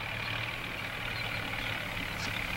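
A tractor engine idles in a steady, even, low rumble at close range, unchanging and continuous throughout, with no voices.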